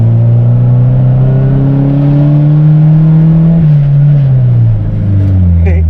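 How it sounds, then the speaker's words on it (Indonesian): A Nissan Silvia S13 200SX running close and loud during a handbrake test, its engine droning steadily and then dropping in pitch as it slows, with no clear talk over it. "Oke, kita tes rem tangan ya."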